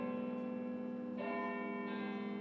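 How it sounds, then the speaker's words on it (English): A bell rings in the refurbished bell tower of the historic Oneida Stake Academy, a sustained tone with rich lingering overtones filling the whole clip at steady loudness, with no voices. "The bell tower was refurbished and the bell is ringing."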